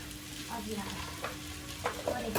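Hemp chowmein being stirred in a pan in a village kitchen, soft scraping and tossing strokes over a low background sizzle, with a few sharper spatula knocks toward the end.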